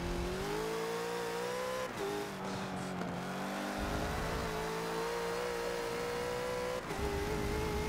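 Bentley GT3 race car in the Forza game at Hockenheimring, its engine note revving and dropping as the throttle lifts briefly, then climbing again with tonal gear changes, a loud continuous in-car drone.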